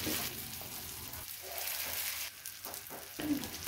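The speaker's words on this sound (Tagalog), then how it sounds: "Ito ang pangalawang batch ng tikoy na aking piprito." Tikoy rice cake with cheese sizzles and crackles steadily as it fries in a pan, with occasional stirring touches and no voices.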